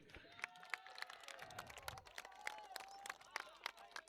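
Applause at the final day of a cricket tournament final in Sainthia: a short burst of scattered hand clapping from a crowd, fairly faint and distant, with voices heard alongside.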